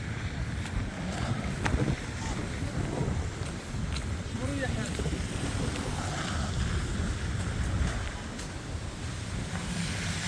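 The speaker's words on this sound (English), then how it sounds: "You can see that wind is picking up" Wind gusting along a downtown Montréal street under a clear blue sky, a steady broadband rush with low rumble lasting throughout, loud and close as if buffeting the microphone.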